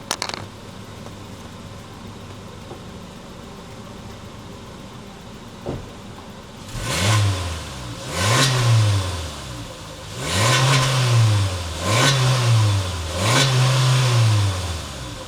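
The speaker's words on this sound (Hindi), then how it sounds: "तो एक बार एग्जॉस्ट नोट यहाँ से सुन लेते हैं।" A Suzuki Jimny's engine revs repeatedly at the exhaust after a quiet idle, with five rising and falling bursts in quick succession, loud and close, without any talking.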